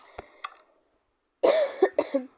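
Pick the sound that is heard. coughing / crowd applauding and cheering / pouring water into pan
coughing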